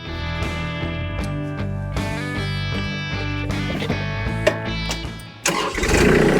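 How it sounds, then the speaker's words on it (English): A Kubota tractor's diesel engine cranks and turns over, then catches with a louder burst near the end, rumbling close by. "we're just going to start the tractor up"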